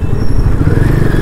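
A Royal Enfield Himalayan 450 motorcycle's high-revving engine runs loud and close in a brief, steady burst of throbbing rumble.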